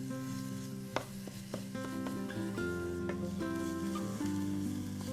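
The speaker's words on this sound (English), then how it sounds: "mince 6 cloves of garlic, which we add to the pan and cook for another minute until fragrant" Minced garlic, six cloves' worth, sizzling steadily in a hot pan while being cooked for about a minute before tomato paste is added, with a few light stirring clinks and taps over a continuous fry; no talking.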